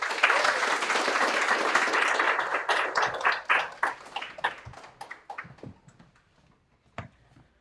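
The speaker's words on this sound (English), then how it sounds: "give an equally fantastically brilliant round of applause to Thierry" An audience at a small live event claps, with dense applause that thins out into scattered individual claps and fades to a few last taps.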